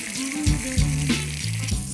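Bacon and burger buns fry in hot oil on a griddle, giving a close, steady sizzle with a few brief louder pops and crackles, and no voices.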